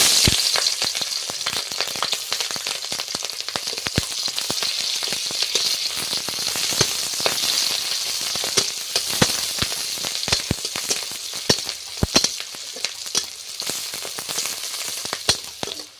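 Onion and green chillies dropped into hot oil hiss with a constant bright sizzle, punctuated by frequent sharp pops and spatters, close by and without voices.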